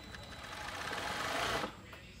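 A coverstitch sewing machine runs a chain stitch along a folded hem, its rapid whirring building steadily for about a second and a half before cutting off abruptly, close and fairly quiet.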